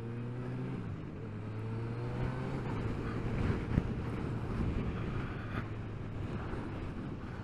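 A 2022 Honda CB1000R Black Edition motorcycle engine hums steadily while cruising in third gear, its tone rising and shifting as it accelerates past traffic, with constant road and wind noise throughout.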